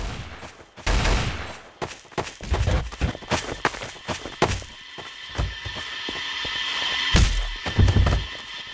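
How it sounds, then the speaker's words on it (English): Bursts of gunfire ring out in the Trouble in Terrorist Town video game, with loud overlapping shots and thuds scattered across the stretch, the rapid volleys coming in clusters with no talking. "Whoa, who's shooting?"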